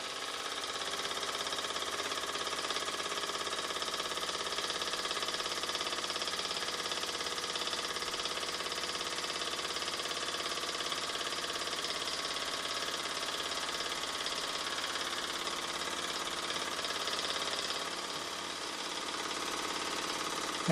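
Electrically powered model of a Robert Fulton line steam engine running off a 110 volt transformer, giving a steady, even mechanical whir and hum that holds unbroken for about twenty seconds, close and alone with no talk.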